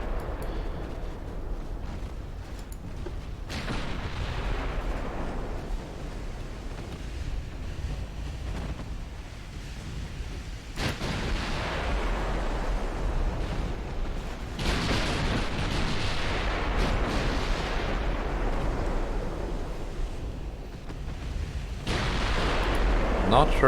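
Battleship gunfire in Ultimate Admiral Dreadnoughts rolls out as deep, distant booms over a steady wash of ocean and wind, with several heavy surges across the stretch.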